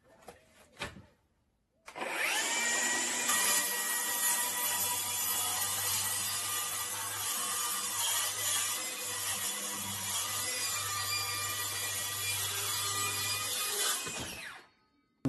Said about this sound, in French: Donc là après je vais déligner sur toute la hauteur de la lame.